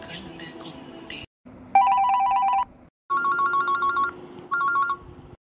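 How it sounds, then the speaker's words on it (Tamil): A telephone rings in a Tamil village-life cartoon. Three clear electronic ringing bursts sound in a row, each lasting about a second with short gaps between them, after a brief stretch of other cartoon sound. "அட யார் இது நமக்கு போன் அடிக்குது?"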